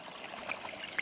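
Water trickles steadily at a trail water source on the Pacific Crest Trail near Cascade Locks, a close, continuous bright babble with small splashes and no voices.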